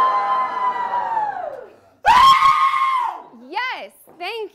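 A group of people screams on a dare, a long sustained crowd scream that trails off, then a second loud burst of screaming followed by short shrill rising cries.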